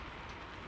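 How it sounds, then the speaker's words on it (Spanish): Rain fills the cab of a truck, a steady, dense hiss of falling drops that stays even and fairly faint over the whole short moment, with no voices. "El sonido de lluvia llenó la cabina por completo."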